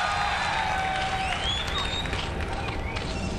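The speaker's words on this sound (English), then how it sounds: "Let's get some cheering going." A crowd at a live StarCraft esports finals cheers and claps in a large arena, a busy sustained roar with whoops and applause, under faint whistles and arena noise.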